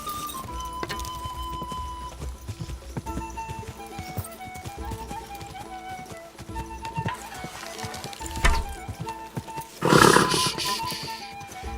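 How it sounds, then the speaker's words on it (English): Hooves clip-clop and a horse snorts and whinnies in the medieval video game Kingdom Come: Deliverance 2, over quiet game ambience with a louder burst near the end. "Easy, good horse."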